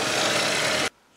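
A 45 mm Forstner bit bores into wood on a workbench build, a loud steady grinding rasp that runs for most of a second before cutting off abruptly.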